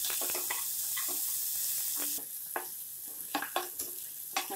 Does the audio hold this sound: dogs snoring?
no